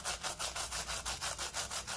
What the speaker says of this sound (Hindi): आवाज़ सुने कितनी क्रिस्पी है